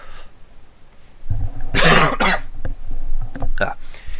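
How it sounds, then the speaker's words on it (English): A man coughs while playing Minecraft: Feed The Beast, a quiet pause broken by one loud, harsh cough burst followed by a few shorter throat sounds and a brief bit of speech. "I need to cough"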